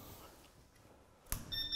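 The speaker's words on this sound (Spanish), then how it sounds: "Ese pitido es la enfriadora, que es lo que manda el agua al tubo" A laser cutter's water chiller beeps on power-up: a faint, quiet background gives way to a sudden click and a short high-pitched beep near the end.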